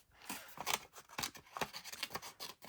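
Small, fine-tipped scissors cut carefully around paper pieces from a craft kit, giving a close, crisp series of about eight irregular snips with no talking.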